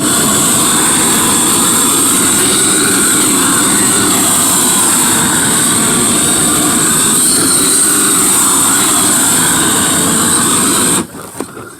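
A roofing torch flame heats a flat roof membrane with a loud, steady, close roar for about eleven seconds, then cuts off abruptly.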